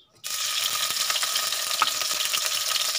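Chicken mince sizzling steadily in a hot pan for samosa filling, a loud, close, continuous hiss with faint crackle and light stirring scrapes throughout, starting abruptly after a brief silent moment.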